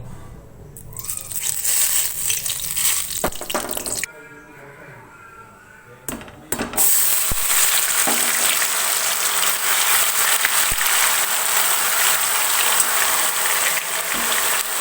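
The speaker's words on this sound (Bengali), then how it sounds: "পেঁয়াজ বাটাটা দিয়ে দিলাম। পেঁয়াজটাকে একটু ভালো করে ভেজে নিতে হবে।" Onion paste dropped into hot oil in a pan for Bengali chicken kosha, a loud dense sizzle and hiss that drops away briefly, then surges back and continues steadily, with faint background sounds.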